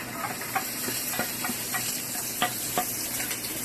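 Garlic sautés in a spoonful of oil in a smoking-hot pot, a constant close sizzle and hiss broken by light, regular scrapes and taps of a stirring utensil.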